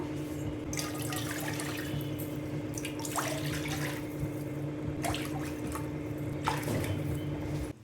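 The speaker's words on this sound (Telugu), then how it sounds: "5 కప్స్ వాటర్ యాడ్ చేసుకుంటాము." Water runs steadily into a pot with a continuous splashing stream and a few small clinks, close by, with no talking.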